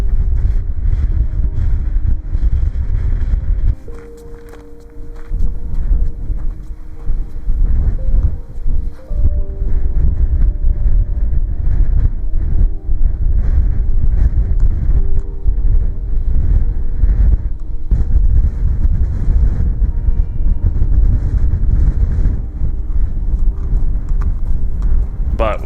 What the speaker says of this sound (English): The wind ripped across the ridge, making every step a challenge.